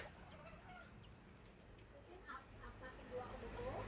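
Chickens clucking in short, scattered calls over a low, steady background hum, with faint voices nearby.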